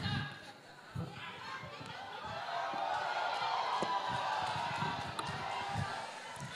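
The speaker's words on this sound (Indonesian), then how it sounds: "terima kasih tepuk tangannya, apresiasinya" A debate audience for the Tegal regent and deputy regent candidates breaks into applause that swells after the first second into a steady, dense clatter of many hands, with crowd chatter mixed in.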